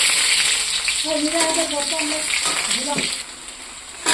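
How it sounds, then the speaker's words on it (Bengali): Onions sizzle steadily in hot oil spiced with cumin, garlic, ginger and mustard, a dense hiss that runs throughout while a voice speaks over it. "তেলে এখন আমি পেঁয়াজ দিয়ে দেবো"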